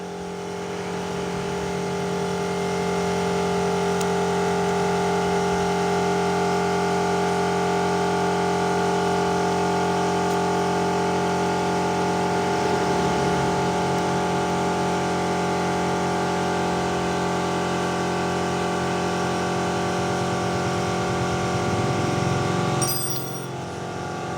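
A small agricultural sprayer engine runs steadily during a carburetor check, holding an even, loud droning hum for about twenty seconds before a brief shift and clatter near the end.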